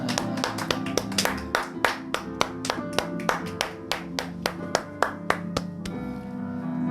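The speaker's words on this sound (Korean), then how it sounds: "우리 하나님께 감사의 박수 드리겠습니다." A church congregation claps together in a steady, even rhythm over sustained keyboard tones, and the clapping fades into a lingering held chord.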